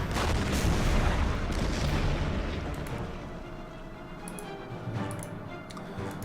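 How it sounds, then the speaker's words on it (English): Artillery barrage in the WWII strategy game Order of Battle, a heavy rumbling boom that decays into a low sustained roar, with faint ticking clicks later. "Can do some damage with the artillery."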